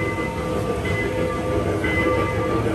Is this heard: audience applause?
no